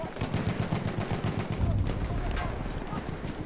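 A horse gallops in the video game Battlefield 1 with rapid, rhythmic hoofbeats, close and continuous, mixed with dense gunfire and voices talking.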